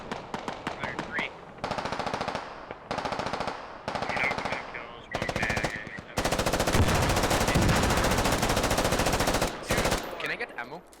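Automatic gunfire in the shooter game Squad, with loud rapid bursts of varying length separated by short pauses, then one long sustained stretch of fire.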